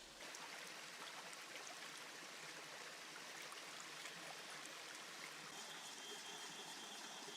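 A mountain stream in wild forest flows in a soft, continuous rushing wash, fairly faint and steady with no talk or other distinct sounds.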